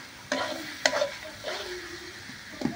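Momo masala spices, turmeric and salt, stirred together in a pan: several distinct scraping strokes of a spoon against the metal, close up, over a faint sizzle.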